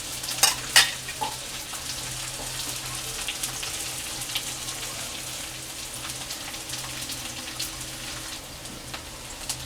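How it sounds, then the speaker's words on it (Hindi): Onion fries in a pan with a steady, rain-like sizzle and crackle, punctuated by a few sharp stirring clicks near the start, close and moderately quiet. "कांदा हल्का सा गोल्डन ब्राउन होने तक हम इसे पकने देंगे।"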